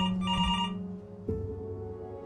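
A telephone rings inside the video game Before Your Eyes, a sustained electronic ring that cuts off and is followed by a second lower tone with a soft hum beneath.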